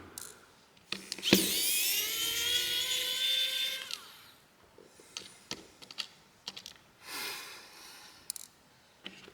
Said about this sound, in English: I do apologize if it is hard to see some of the screws coming out, but they are coming